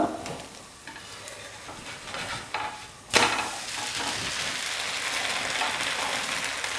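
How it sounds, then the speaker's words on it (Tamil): A white dosa made from an urad-free batter with puffed rice sizzles softly on a hot pan, then a sharp scrape marks the flip and a louder, steady crackling sizzle follows. "தோசை ஒரு பக்கம் வெந்துடுச்சு, திருப்பி போட்டுக்கலாம்."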